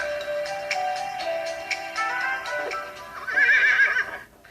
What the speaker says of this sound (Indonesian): Saya sekarang dengan kuda yang kita punyai.